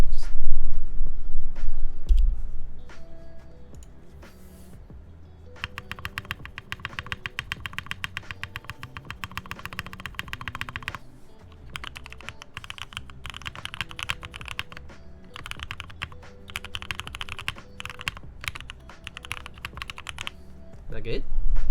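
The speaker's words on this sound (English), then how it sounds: "spacebar test." Keys clack on a polycarbonate SINGA v3 mechanical keyboard, with dense bursts of typing and repeated spacebar presses close to the mic. A voice talks intermittently underneath.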